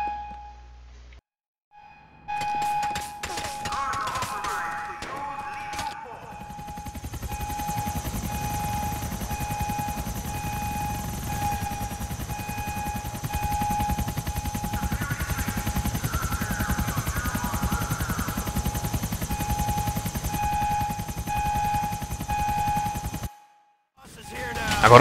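Two helicopters bringing reinforcements in GTA 4 drone loudly and steadily with a whirring rotor tone, mixed with bursts of gunfire throughout a prison-yard battle.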